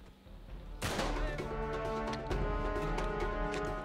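A sudden burst of gunfire in Uncharted 3 on PS3, followed by sustained crackling shots and rumble, loud and close, with a soft voice faintly underneath.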